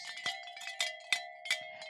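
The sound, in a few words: bell being rung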